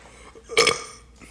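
One loud, drawn-out burp after chugging a drink, rising suddenly out of quiet room tone and fading over about a quarter second.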